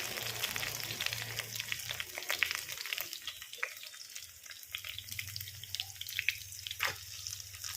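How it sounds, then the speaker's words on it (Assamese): Cut potatoes fry with spices in a pan, a steady crackling sizzle running throughout with scattered pops and light stirring scrapes, fairly quiet and close, with no voices. "কাটি থোৱা আলুখিনি ধুনীয়াকৈ এনেকৈ মছলাৰ লগত ধুনীয়াকৈ ভাজি লৈছোঁ।"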